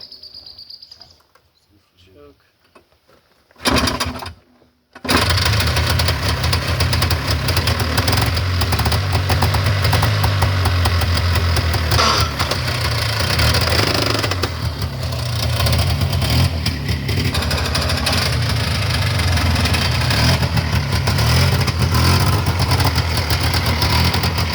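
A Polaris 4x4 utility vehicle with a suspected bad transmission starts up and runs with a loud, continuous rough clattering engine roar after a few seconds of quiet ambience.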